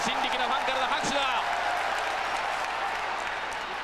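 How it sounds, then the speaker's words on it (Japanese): Wrestling fans in the Tokyo Dome applaud, a steady broad roar of clapping filling the arena throughout, with a commentator's voice audible over it early on. "さあ、場内維新力のファンからの拍手だ。"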